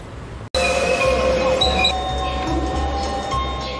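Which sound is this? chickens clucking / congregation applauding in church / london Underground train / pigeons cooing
london Underground train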